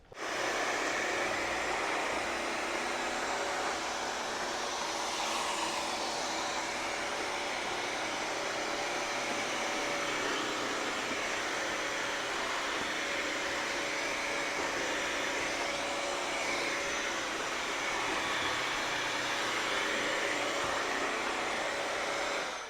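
A Bissell CrossWave HydroSteam wet-dry vacuum runs continuously as a loud, steady motor whine and airflow roar, close and unbroken, without speech.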